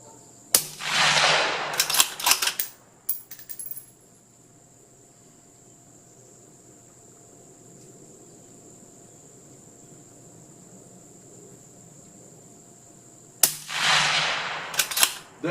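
A Ruger Precision Rifle fired at 50 yards on an outdoor range, with a loud sharp report near the start and a few more bursts of noise, then a long quiet stretch before another loud blast near the end.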